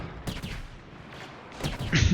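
A turret fires repeatedly in Star Wars: Battlefront on the Hoth map, in short, loud blasts spaced across a couple of seconds over a background of battle rumble.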